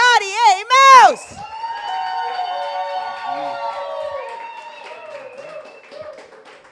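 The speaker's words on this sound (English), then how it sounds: "put your hands together, scream and shout and make it loud" A poetry slam audience in Prescott erupts into loud cheering, whooping and shouting at first, then settles into sustained clapping and applause for several seconds as the poet is introduced.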